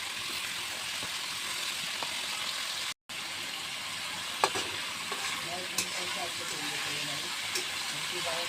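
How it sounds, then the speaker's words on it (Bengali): Spiced paneer pieces, coated in chili powder and salt, fry in hot oil with a steady close sizzle and hiss, with a few small pops and stirring sounds. "তেলটা গরম হয়ে গেছে, এখন আমি পনিরগুলো ভেজে নেব।"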